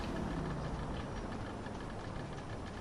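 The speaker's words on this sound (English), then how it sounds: "you can hear the engine kind of get a little bit thick" A damaged car engine in a GTA demolition derby drones with a thick, rough, continuous rumble, steady and close, with a dense gritty texture throughout.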